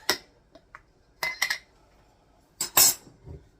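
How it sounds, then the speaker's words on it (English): Chili beans going into a pot of taco soup: a few sharp metallic clinks and scrapes of a spoon against the pot and can, in short separate bursts with quiet gaps between. "I'm going to add the chili beans to mine."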